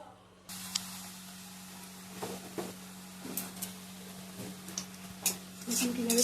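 Shiuli leaves dipped in gram flour batter hiss and crackle as they drop into hot oil, a soft steady sizzle with small bursts of popping that swell louder toward the end, set against a constant low kitchen hum.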